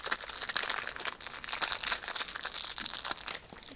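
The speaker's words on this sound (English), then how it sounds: "it's wrapped in plastic. Let's get this open." Plastic wrapping torn and crinkled off a puzzle cube box, a close, continuous rustling and crackling with sharp crinkly bursts throughout.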